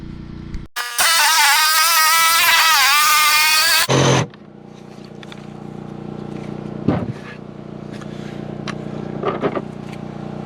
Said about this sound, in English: I'll take my Sawzall and I'll cut this out